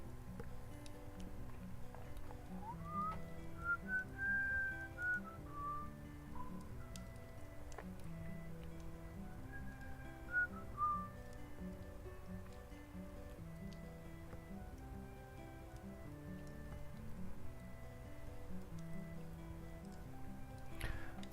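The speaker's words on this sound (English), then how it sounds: "I keep a really dirty penny whistle here on my desk" Penny whistle, a small dirty tin whistle, played in a few short gliding melodic phrases near the start and middle, bright and fairly clear over a steady background hum, with no talking.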